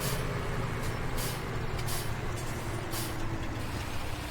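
Steady low engine drone of a modded truck in Farming Simulator 17, with repeated hissing bursts of air brake release breaking through at intervals, loud and continuous without speech.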